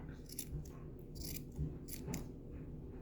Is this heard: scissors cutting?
yes